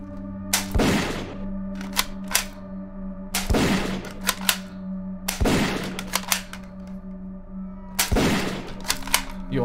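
Video game shotgun blasts ring out in four heavy, well-spaced booms, each followed by a short cluster of lighter clacks and thuds over a steady hum.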